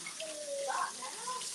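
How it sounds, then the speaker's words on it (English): A kitchen tap runs briefly as hands are rinsed, a soft close splash of water with a faint voice under it. "Let me rinse my hands real quick."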